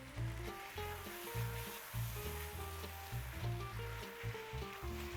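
Pineapple with a shake of cayenne sizzles in a hot pan while onion jam is cooked, a steady close frying hiss with pulsing, bubbling surges and no talk.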